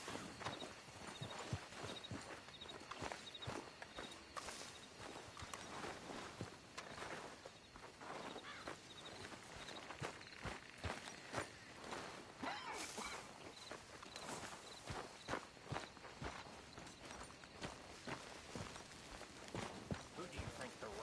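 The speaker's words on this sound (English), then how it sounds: "Arthur, get that horse out of here." Horse hooves clip-clop at a walk in Red Dead Redemption 2, a steady rhythmic plodding under game ambience, with characters talking over it throughout.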